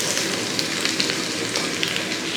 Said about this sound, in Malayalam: 2 സബോള ഇതേപോലെ ചെറുതായിട്ടൊന്ന് അരിഞ്ഞ് വെച്ച് അതങ്ങോട്ട് ഇട്ട് കൊടുക്കുക.